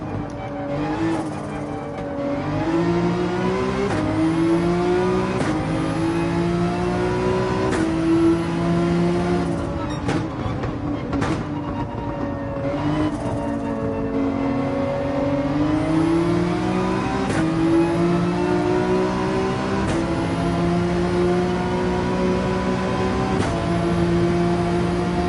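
A race car engine in Gran Turismo 7 drones steadily, its pitch rising and falling as the car accelerates, shifts and lifts off for corners, loud and continuous throughout.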